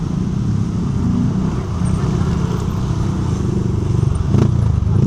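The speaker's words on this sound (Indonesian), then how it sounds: "berisik banget nih motor" A loud motorcycle engine drones steadily close by on a road toward a hilltop biker rest area, a continuous low rumble with some rattling and traffic noise, swelling slightly toward the end.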